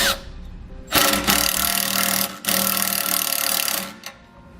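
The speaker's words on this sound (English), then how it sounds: "Then tighten it down with a Phillips head screwdriver and a 10mm socket." A nylock nut is tightened with a Phillips screwdriver and a 10mm socket, probably on a power driver, giving loud, close whirring bursts of about a second each, separated by brief pauses.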